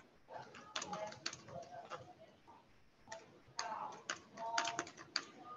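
Keys clatter in irregular bursts of typing on a computer keyboard, fairly faint and close, with short pauses between flurries in a quiet room.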